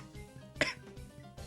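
A single sharp cough bursts out against a quiet background of faint murmur, brief and close.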